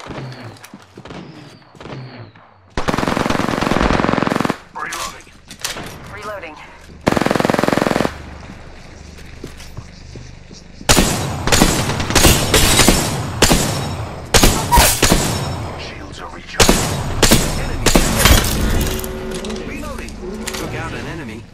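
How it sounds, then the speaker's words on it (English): Rapid rifle gunfire from a video-game sniper match, loud bursts and sharp repeated shots in clusters, with long dense volleys in the second half and a few game voice lines between them. "Hostile spotted. Firing on subject. Taking a shot."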